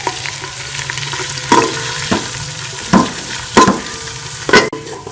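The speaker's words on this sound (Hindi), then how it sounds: "घी को गर्म कर लेंगे। इसमें हम प्याज शामिल कर लेंगे और प्याज को ब्राउन कर लेंगे" Onions browning in hot ghee for chicken pulao give off a steady, close sizzle, broken by several sharp stirring scrapes spaced a second or so apart, with no voices.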